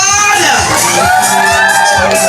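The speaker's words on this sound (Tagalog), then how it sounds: "Palakpak na may sigawan." At a wedding reception, a crowd claps and shouts together, loud and close, with whoops and cheering voices layered over the applause.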